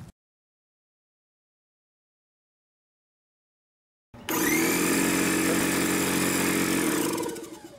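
Dewalt D55141 air compressor starting abruptly after several seconds of silence, its motor running loud and steady nearby before winding down at the end.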